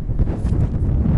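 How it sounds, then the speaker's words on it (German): Strong wind gusting steadily at a tarp campsite, buffeting the microphone with a loud, continuous low roar. "voll der Wind"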